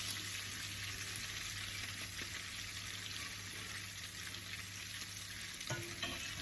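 Capers fry in hot oil until crispy for a Sicilian pesto, giving a steady close sizzle with gentle stirring throughout and a brief clatter near the end.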